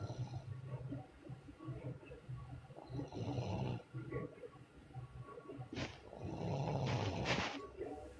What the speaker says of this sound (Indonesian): Ada yang ngorok